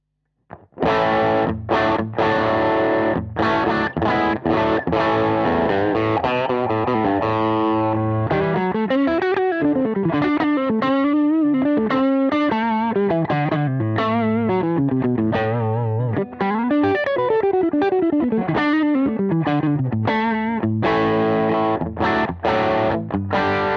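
Electric guitar played through a gold Klon overdrive pedal with an updated frequency response, giving a smooth, creamy overdriven tone; loud chords and sustained melodic lines ring out continuously for over twenty seconds with no talking.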